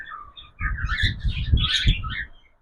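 Cockatiels chirp in a busy cluster of bright, overlapping tweets and squawks close by, filling a couple of seconds after a brief quieter call.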